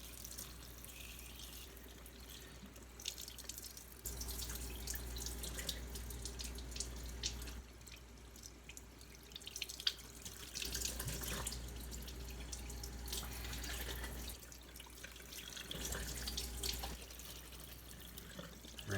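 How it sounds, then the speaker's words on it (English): A tap runs lukewarm water for rinsing, a steady hissing flow splashing into a sink, faint and continuous with slight swells as the stream is interrupted, with no voices. "I'm gonna turn that water on"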